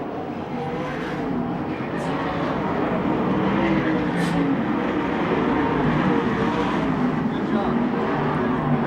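USAC/CRA sprint cars roar around Manzanita Speedway in a steady, loud, high-pitched engine drone that rises and falls as the pack laps the track, with a commentator talking throughout.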